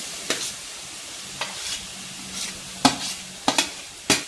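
Vegetables sautéed with coriander and chilli flakes in a pan for a semolina-poha breakfast, heard as intermittent sharp scraping stir strokes over a soft sizzle, a few spaced clatters standing out, with no talking.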